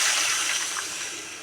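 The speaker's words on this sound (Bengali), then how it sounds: "দিয়ে দিচ্ছি পানি" Water rushes into a hot pan of browned frying onions, a close, loud, broadband hiss and gush that starts strong and gradually fades over a second or so.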